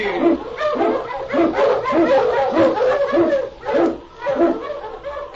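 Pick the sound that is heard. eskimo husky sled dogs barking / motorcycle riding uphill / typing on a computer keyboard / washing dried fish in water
eskimo husky sled dogs barking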